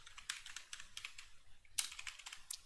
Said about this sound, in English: So I'll type my commit message over here.